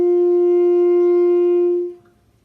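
An alto saxophone holds one straight tone with no vibrato, a single steady, even note that sustains for about two seconds and then stops cleanly.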